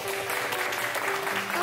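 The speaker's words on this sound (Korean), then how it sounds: "박수로 맞이해 주십시오." Audience at a Sony A5100 camera launch event applauding to welcome a Sony Korea presenter, a dense, steady wash of clapping from a crowd filling the room.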